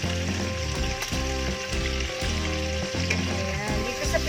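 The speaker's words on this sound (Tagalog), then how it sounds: "Natin ibigisa ang ating luya." Ginger sautés in hot oil in a pan used for frying chicken wings, a close continuous sizzle and crackle with steady spatter throughout.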